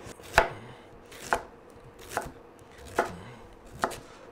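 A knife chops through a celeriac on a board in five sharp, evenly spaced thuds, close and clear with nothing else heard.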